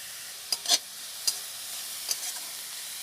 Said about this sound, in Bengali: হালকা করে ভেজে তারপর দিয়ে দেবো গ্রেট করে রাখা বাঁধাকপি গ্রেট করা গাজর পেঁয়াজ কুচি